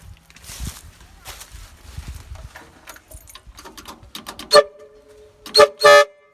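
Air horn on a heavily loaded Thai farm truck hauling sugarcane, sounded in several short loud blasts near the end after a stretch of engine rumble and shuffling noise.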